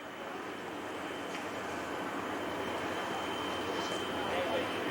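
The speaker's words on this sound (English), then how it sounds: "We now have a line of cars that are waiting for the train to pass." A train rolls past near a Little League baseball field, a steady broadband rumble that holds at an even level throughout, moderately loud and continuous, with no talk over it.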